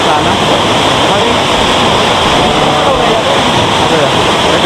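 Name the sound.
waterfall at Malino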